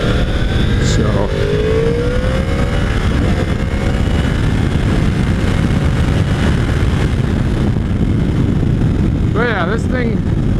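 A 2019 Yamaha R1 motorcycle engine accelerating under a rider, steady loud engine drone with rising whine buried in heavy wind rush, continuous throughout, with a voice partly heard over it.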